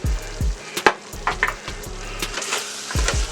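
Chorizo seasoned with salt and pepper sizzles in a hot pan while being stirred, the crackling fry broken by repeated scraping strokes and a few utensil clinks against the pan, close and fairly loud.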